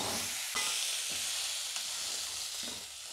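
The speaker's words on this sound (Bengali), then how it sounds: "কাঁকড়াটা খুব ভালো করে ভাজি হয়ে গেছে" Crab pieces fry for crab bhuna in a pan, giving a steady close sizzle and hiss of hot oil with a few stirring scrapes and knocks, with no talking.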